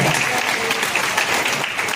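Conference audience in Kolkata applauding, dense steady clapping from many hands, fairly loud and continuous with no pauses.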